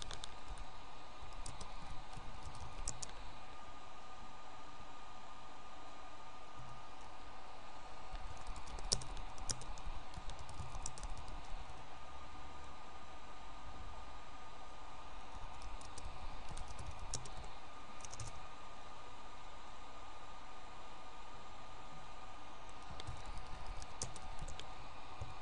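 Steady clicking of a computer keyboard as a new title is typed into software, with quick keystrokes running continuously at close range and no voices.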